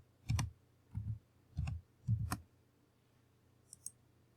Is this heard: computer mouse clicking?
yes